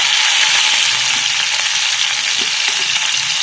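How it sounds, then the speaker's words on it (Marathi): Garlic and green chillies frying in very hot oil, a loud, dense, steady sizzle crackling without pause, close up, with no voices. "तेल, लसूण, मिरची आणि कांदा ॲड केला आहे."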